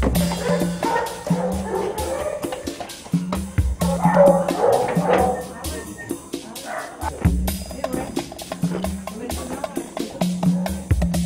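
Hunting dogs chasing hare bark and yip repeatedly in short, sharp bursts close by, with people talking over and between the barks outdoors.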